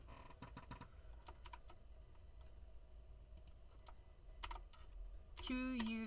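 Typing on a computer keyboard, with bursts of quick, close key clicks in an irregular rhythm and brief pauses, and a voice speaking near the end.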